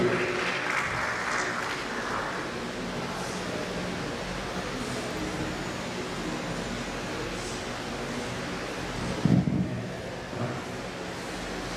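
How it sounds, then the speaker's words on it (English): An audience applauds to welcome the Bells Comprehensive Secondary School, a faint, continuous patter of clapping heard from a distance over a low background rumble, with no voices. "Can we give a round of applause to welcome the Bells Comprehensive Secondary School"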